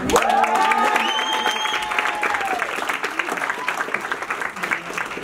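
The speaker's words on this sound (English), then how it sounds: "I want to give y'all a round of applause." A crowd at a Total Life Changes recognition event breaks into loud applause and cheers, with a whooping voice rising over the clapping at the start before settling into sustained, dense hand claps.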